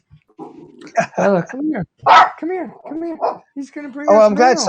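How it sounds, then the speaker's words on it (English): A pet dog barks at the postman, with short barks and yelps mixed in among a nearby person's calling and talking, loud and close indoors. "my dog's gonna bark at the postman,"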